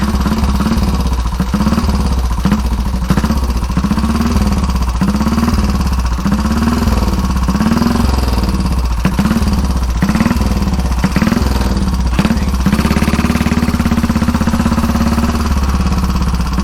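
A loud 1934 Velocette KTT racing motorcycle engine chugs at low revs with a steady, rhythmic thumping pulse, close up and continuous throughout.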